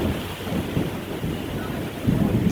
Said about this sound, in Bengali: বৃষ্টি তো হয়েই যাচ্ছে।